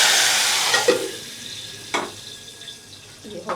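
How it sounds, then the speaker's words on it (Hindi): Garlic tempering for dal sizzles steadily in a small home-style food business kitchen, a continuous bright hiss broken by a few sharp clinks of utensils. "यहाँ पर लहसुन वाला तड़का बिल्कुल रेडी हो चुका है। अभी दाल में जाएगा।"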